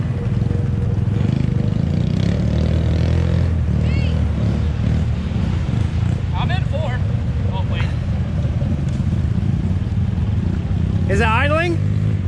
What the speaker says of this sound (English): What kind of a boat is that?